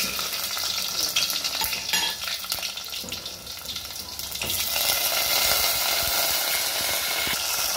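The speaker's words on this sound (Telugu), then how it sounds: "ఇట్లా ఒక రసం దాకా పెట్టుకున్నాక అన్ని రకాల తాలింపు సరుకులు వేసుకుందాం" Tempering spices sizzle and spit in hot oil for a cherry tomato rasam. The frying is close and steady with a scattered crackle, and it swells louder and denser in the second half.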